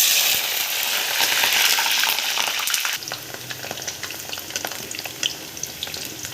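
Cabbage and potatoes fry in hot oil with a steady, loud sizzle and bubbling crackle that drops to a lighter spitting hiss partway through, with occasional clinks of a utensil.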